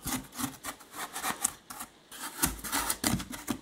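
A Stanley knife scrapes across a model rockface, making repeated close, rough rasping strokes in uneven bursts with brief pauses between them.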